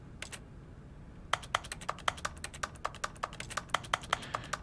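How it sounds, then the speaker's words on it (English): Keyboard typing inside the video game The Stanley Parable: a quick run of crisp, close clicks, two isolated taps, a short pause, then rapid irregular keystrokes continuing to the end over a faint hum. "if I hit E, I can just hear the keyboard"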